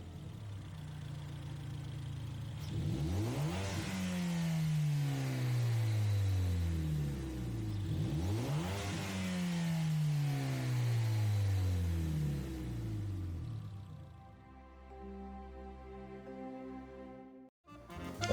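A Ford Focus ST fitted with the Focus Grade B rally engine in Gran Turismo 7 revs up twice in long, rising sweeps from idle, each falling back, then settles to a quieter idle.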